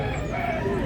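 A rooster crows among chickens brought for sale at a poultry market in Cordoba, a single drawn-out call rising over a steady background of clucking and crowd noise.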